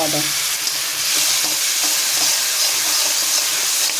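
A spice masala with salt and ginger is stir-fried in a pan, giving a loud, dense, unbroken sizzle with faint scraping of the spatula throughout.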